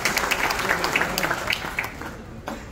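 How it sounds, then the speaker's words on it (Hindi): A crowd applauds to welcome a guest onto the stage at an association event, a dense burst of clapping that gradually thins and fades toward the end. "उनका भी स्वागत है मंच पे जोरदार ताली से स्वागत करें।"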